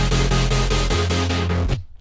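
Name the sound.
synth chords layered with distortion, bit crusher and EQ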